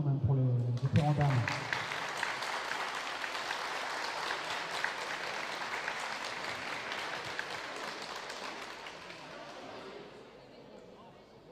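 Applause for veteran women competitors at a competition: a dense, steady wash of clapping from a crowd that gradually thins and fades toward the end, with a voice briefly heard at the start.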